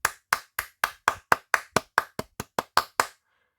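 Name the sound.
small applause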